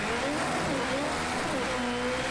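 Race car engine in the racing video game Project Cars 2, a steady droning whine with pitch rising and falling as the car shifts and accelerates through corners, loud and continuous with no voices.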